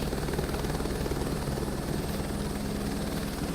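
A helicopter in Microsoft Flight Simulator 2024, steady dense rotor and engine drone heard close and constant without pauses.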